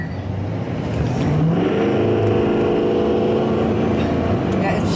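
An L5P Duramax diesel pickup revs and accelerates hard from close inside the cab, its engine note rising and dropping through gear changes in a steady loud drone.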